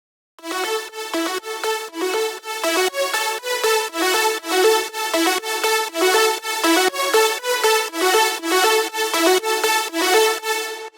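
A bright synth preset called Heaven, built in the Vital synthesizer, plays a rhythmic run of short chord stabs with rich harmonics, each pulse swelling and fading in a steady repeating pattern, loud and alone.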